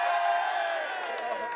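Crowd at a Japanese car drift event cheering and whooping for the S15, a steady, dense wash of many voices sustained throughout the short burst.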